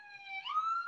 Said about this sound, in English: I still hear sirens.